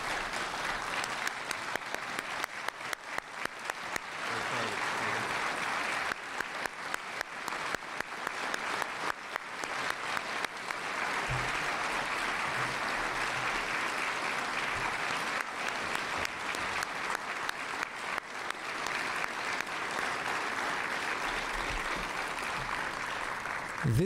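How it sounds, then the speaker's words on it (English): Long, sustained round of applause from guests at an Order of Ottawa awards ceremony, steady clapping that swells and fades in places over about twenty seconds. "I would like to ask guests to join me in a round of applause for Mayor Jim Watson."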